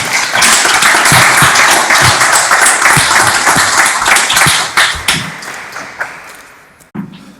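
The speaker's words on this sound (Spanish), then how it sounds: "Aplaudamos este logro." A crowd at a lawyers' swearing-in ceremony before the Supreme Court applauds in a loud, dense burst that thins out into scattered claps and fades over several seconds.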